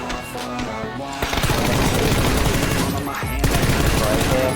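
Rapid automatic gunfire in the battle-royale video game PUBG: dense, loud bursts of shots roll almost without a break, with heavier volleys and booming impacts near the end.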